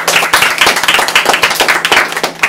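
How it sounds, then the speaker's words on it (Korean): At a student debate presentation event, an audience gives a loud, close round of clapping. The individual claps are distinct and quick, forming a lively, uneven rhythm for a couple of seconds. "박수 한번 주세요."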